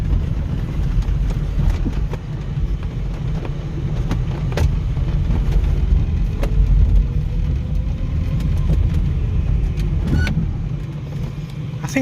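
A yellow REVA G-Wiz electric car converted to lithium-ion batteries drives along at about 60, giving a steady road and tyre rumble with faint whine and scattered small knocks and rattles, close and even throughout.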